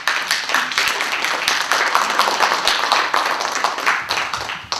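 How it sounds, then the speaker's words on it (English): An audience at an African history conference claps, a dense, loud burst of many hands that holds steady for about five seconds with no voices. "Let's give them a hand clap for that."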